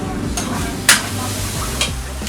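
Nasi goreng sizzling in a pan at a Yogyakarta street stall, a steady frying hiss broken by a sharp metallic clank of a spatula and scraping stirs, with a low hum of voices and traffic behind.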